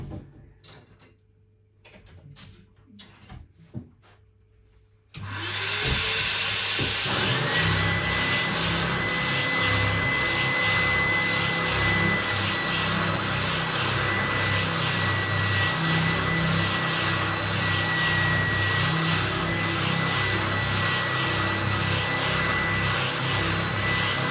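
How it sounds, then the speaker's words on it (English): A vacuum cleaner starts up in a workshop during a budget DIY guitar kit build, roaring loudly and steadily with a high whine after a few seconds of quiet handling noises. "Let's put the vacuum on."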